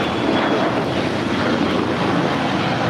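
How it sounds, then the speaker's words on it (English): A four-year-old Bombardier Challenger 350 business jet departs LAX on runway 25 right, a loud, steady, broad jet roar with some wind buffeting on the microphone, no talking. "I believe that's NetJets 758 off to an unknown destination. Bombardier Challenger 350."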